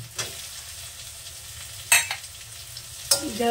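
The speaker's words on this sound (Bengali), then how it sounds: "দিয়ে দিলাম টমেটো কুচি।" Chopped tomatoes are added to lightly fried onions in a pan, with a low background sizzle and three sharp scraping stirs of a spatula, close and distinct, no talking.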